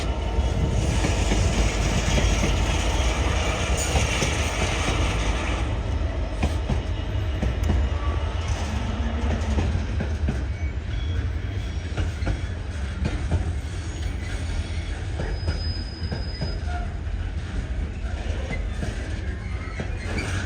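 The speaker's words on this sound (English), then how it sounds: "off to Felixstowe will be Freightliner" A Freightliner freight train bound for Felixstowe passes close by at Peterborough on the East Coast Main Line, a loud continuous rumble with wheel clatter that eases slightly as the wagons roll by.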